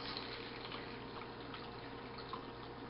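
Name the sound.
pouring distilled water into a container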